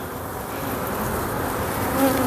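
Honey bees buzz at an open hive during frame inspection, a dense, loud, continuous hum close by that swells slightly toward the end, with no talking.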